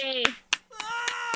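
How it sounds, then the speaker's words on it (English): A few sharp handclaps land in an even rhythm, roughly one every quarter second, over a voiced tone, brief and close. "Everyone clap."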